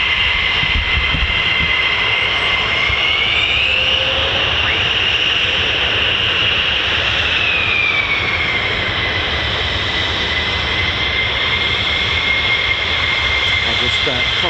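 A fighter jet, an F-15 or F-35, taxis across the runway at RAF Lakenheath with a steady, loud engine whine and rumble that holds throughout, and a faint voice can be heard beneath it.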